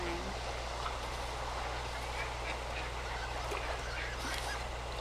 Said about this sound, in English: These ducks.